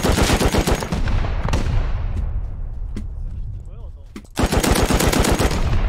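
Rapid automatic gunfire from an auto turret in the survival game Rust, loud sustained bursts at the start and again near the end, with a quieter stretch between.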